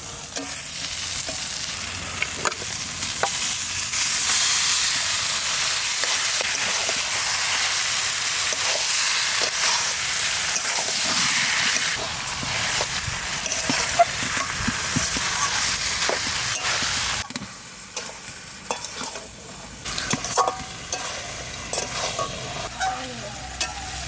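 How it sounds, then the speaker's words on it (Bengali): Duck meat, with salt and lightly fried spices, cooks in a pan in a village-style kitchen, giving a loud, continuous sizzle and crackle. Near the end it drops to quieter, patchier frying. "মশলা বেশি কষাবো না হালকা একটু কষাই নিলাম এবার মাংসটা দিয়ে"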